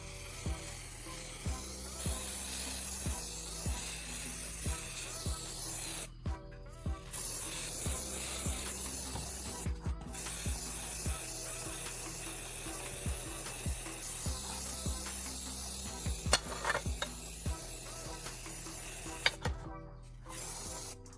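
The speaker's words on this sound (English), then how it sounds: "giving everything a solid coat of black spray paint" Black spray paint hisses from an aerosol can onto the parts of a homemade metal bending tool, a steady spray broken by short pauses between passes, with light mechanical clicks throughout.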